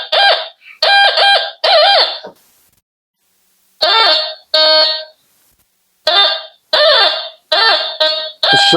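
A DR.ÖTEK MT-12 metal detector sounds its alarm outdoors at a ranch, giving loud, close bursts of warbling electronic beeps, three in a row, a gap of silence, two more, then a final run of four quick bursts.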